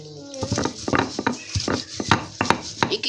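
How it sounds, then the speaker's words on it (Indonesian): A stone mortar and pestle (ulek) grinds ingredients in a home kitchen, giving repeated close knocks and scraping strokes in an irregular rhythm, with no talking. "di blender ya enak, cuma kan lebih enak di ulek."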